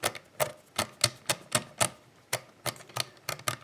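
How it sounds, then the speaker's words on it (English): Number wheels of a TOKOZ four-wheel combination padlock are spun by hand, producing a quick run of sharp, evenly spaced ratcheting clicks, close and crisp, with no voices. "shuffle the wheels again."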